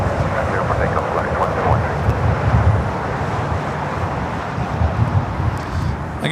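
An airliner takes off from runway 25 right at LAX, a loud, steady, broad roar that holds for the whole stretch with some wind buffeting on the microphone.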